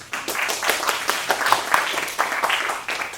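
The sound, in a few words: round of applause for a speaker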